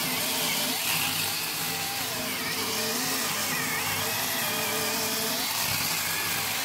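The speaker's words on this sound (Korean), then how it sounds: "전기톱으로 장작 패고 있습니다." A battery electric chainsaw whines loudly and continuously up close, its pitch dipping and rising as it bites into firewood.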